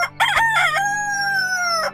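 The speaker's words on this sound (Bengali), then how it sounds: "মোরগ ডেকে উঠল।" An animated rooster in a Bengali Aesop's fable cartoon crows once, loud and close: a short choppy opening and then a long, sustained falling call.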